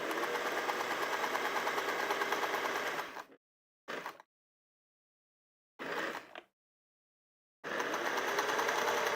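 Sewing machine stitching the last seam of a quilted pillow cover, a loud close steady whirring run, then brief stop-start bursts, and a final sustained run.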